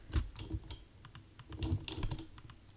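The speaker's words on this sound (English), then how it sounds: "it's an old-ass keyboard, and it makes those clicky sounds" An old wireless computer keyboard with clicky keys being typed on, giving an uneven run of close, sharp key clicks and thocks with short pauses between bursts.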